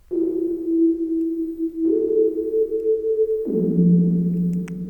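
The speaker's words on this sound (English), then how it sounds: "I like the effect that the reverb actually does apply on that, as you guys can hear, the reverb." Synthesized game instrument tones with added reverb, built in the Godot engine for a first-person horror game: three sustained, steady notes in sequence, each shift stepping to a new pitch, with a lingering reverberant wash, loud and alone.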